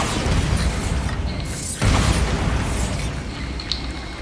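A Bombarda blasting spell in Hogwarts Legacy goes off in a deep, rumbling explosion, a heavy boom that swells and then fades into lingering debris noise.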